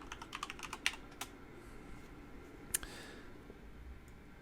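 Short run of computer keyboard typing, a handful of crisp close keystrokes in a quick burst, then a lone tap after a pause against a faint room hiss.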